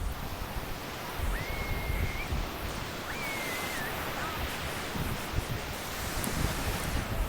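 Steady wind roars against the microphone with a broad wash of rough surf underneath, continuous and loud, on a shoreline of the US East Coast.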